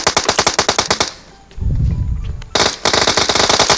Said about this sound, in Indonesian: Oke, ini aku coba menembak lah.